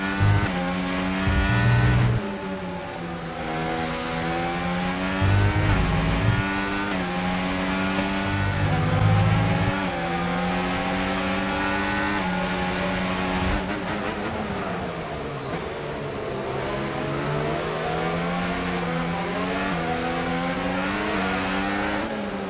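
An F1 race car engine in the video game F1 25, screaming at high revs through a long stretch of driving with repeated shifts and rises and falls in pitch, loud and continuous with no talk.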